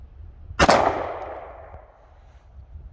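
A single sharp 9mm pistol shot with an expansion primer, from a Glock 17 Gen 5 or M&P Shield, cracks loudly at close range on an outdoor range, then its echo decays over about two seconds.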